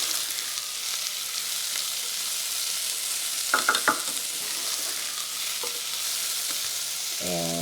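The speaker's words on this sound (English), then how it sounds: "And the onion's becoming translucent" Chopped onion, about a quarter cup, sizzles softly in a pan as the base for buttery white rice, a steady faint frying hiss with a few brief scrapes of stirring.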